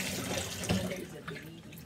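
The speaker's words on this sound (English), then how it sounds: "Now we have to wash our hands." Tap water runs steadily into a sink as hands are washed, a continuous close splashing stream with faint shifts as the flow is disturbed, no talking over it.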